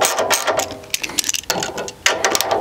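Drum sander conveyor rollers being tightened down, giving quick bursts of metallic ratcheting and clicking, close and fairly loud, separated by short pauses.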